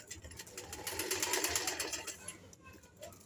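Sewing machine stitching a suit, a fast rhythmic mechanical rattle that swells and fades over a few seconds, with a voice talking underneath.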